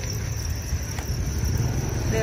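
Crickets raised on a cricket farm chirp as a dense, steady high-pitched trill, continuous and fairly loud throughout, over a low rumbling background.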